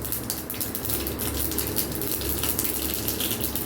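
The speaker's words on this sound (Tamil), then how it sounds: "சூடானோன்னு கடுகு நல்லா பொரியட்டும்" Mustard seeds spluttering in hot oil for a tempering for tomato coriander chutney, giving a steady, dense frying hiss with faint crackle, close and continuous throughout with no talking.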